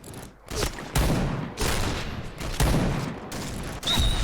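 Gunfire in the video game Point Blank, with a DSR-1 sniper rifle in play: several loud, close, sharp shots with short gaps between them, each decaying into a crackling tail.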